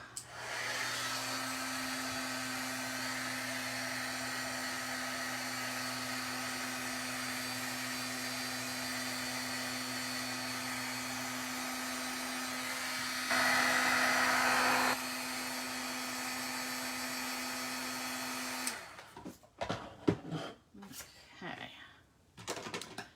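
An embossing heat tool warms embossing powder on a card-making project, giving a continuous steady blowing whir for about nineteen seconds that briefly gets louder, then cuts off, followed by handling clatter and paper rustling.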